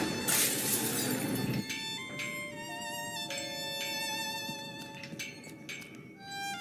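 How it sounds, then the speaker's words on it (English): Glass panel above a laboratory door shatters in the Gibbous Cthulhu adventure game, a loud burst of breaking glass followed by several tinkling, ringing shards settling over a few seconds. "I got rid of the glass above the door to the lab."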